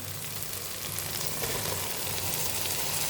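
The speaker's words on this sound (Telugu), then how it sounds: "బాగా మగ్గింది కదా, ఇప్పుడు టమోటాలు వేసేసుకోవడమే." Tomatoes sizzle in a hot frying pan while a Telugu-style bagara rice with chicken is cooked, giving a steady, close, crackling hiss with no talk.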